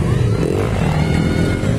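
Motorcycle engines roar loudly and continuously at a ladies' motocross race in Maramag, a steady, close buzzing drone with slight revving fluctuations.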